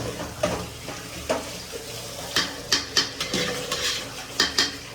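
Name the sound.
stirring biryani rice in a pot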